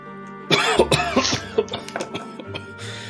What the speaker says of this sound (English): he coughs sort of quite heftily